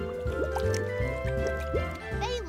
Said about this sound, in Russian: Вот, например, летят мыльные пузыри.